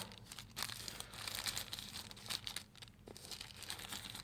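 Close, soft crinkling and rustling of plastic wrap and paper as a Samsung Galaxy S8 Edge user manual is unwrapped, in irregular bursts with no talking.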